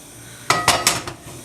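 Cast iron frying pan handled on a kitchen stove before cooking asparagus in olive oil, three or four sharp, close metallic knocks and clanks in quick succession, then quiet.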